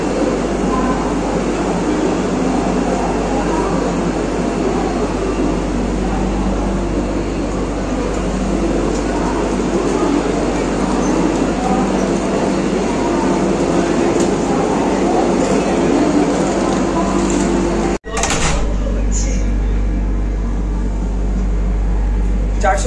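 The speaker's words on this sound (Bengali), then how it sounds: "ট্রেন এখন পৌঁছে গেছে ভুবনেশ্বর স্টেশনে" Vande Bharat Express train pulling into Bhubaneswar station, heard from inside the carriage as a steady, loud low rumble and hum. A brief sharp break comes near the end, then the heavy drone continues.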